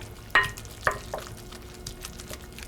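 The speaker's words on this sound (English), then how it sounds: "now I want to mix all this up" Smoked salmon ravioli filling being mixed with egg in a bowl, two sharp utensil clacks followed by soft wet stirring, close and fairly quiet.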